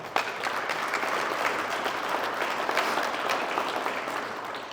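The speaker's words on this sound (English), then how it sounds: "I want to thank all of you with a round of applause for that." Applause from an outdoor Memorial Day crowd at Pioneer Park in Fairbanks, Alaska, a dense, steady wash of many hands clapping that holds for several seconds with no talk over it.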